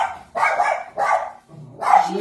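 A dog barks three times in quick succession, loud and close, each bark sharp and separated by brief pauses, with no other voices.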